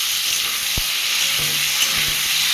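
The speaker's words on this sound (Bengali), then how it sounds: "পাঁচফোড়নটা আমার ভাজা হয়ে গেছে আমি এর মধ্যে কাঁচা টমেটোগুলো দিয়ে" Raw tomatoes frying in oil with panch phoron for a sour-sweet jujube chutney: a loud, even sizzle and hiss throughout, with a few soft knocks of stirring underneath.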